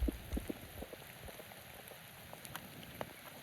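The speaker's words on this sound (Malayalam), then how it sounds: "അത്യാവശ്യം മഴ കണ്ട തകർത്ത് പെയ്യുന്നുണ്ട്" Steady heavy rain hissing softly at a distance at Chittippara viewpoint, Thiruvananthapuram, with scattered drips and patters standing out from the wash of falling water.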